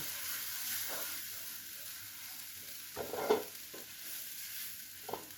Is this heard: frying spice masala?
yes